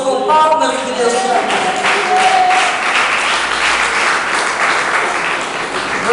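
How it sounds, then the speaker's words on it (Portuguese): A church congregation applauding during a sermon, a dense sustained roar of many hands clapping close and loud throughout, with voices mixed in at the start. "exalte a Deus com palmas de Deus"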